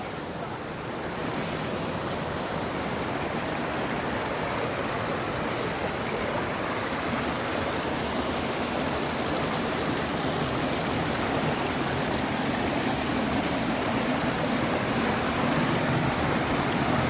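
A waterfall gives a continuous, even roar of rushing water, loud and close, with no break across seventeen seconds.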